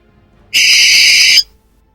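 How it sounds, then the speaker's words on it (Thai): A single harsh, hissing screech of a barn owl, loud and close, lasting just under a second against near silence. "แล้วก็ตามมาด้วยเสียงนกแสกตัวหนึ่ง ที่บินมาเกาะที่ต้นไม้ใกล้ๆบ้าน แล้วก็ส่งเสียงร้องดังขึ้น"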